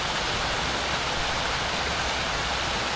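A waterfall heard up close, a loud, constant broadband rush of falling water with no breaks, filling the whole moment.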